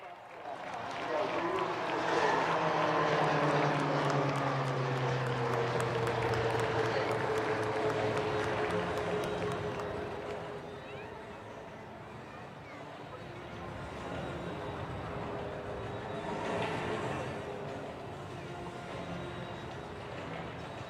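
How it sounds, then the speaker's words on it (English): An HTT-40 trainer aircraft flies in an air force display at Chennai's Marina, giving a loud, sustained roar that peaks early and slowly fades, with a faint voice under it. "is the HTT-40 aircraft for the first time ever in an aerial display"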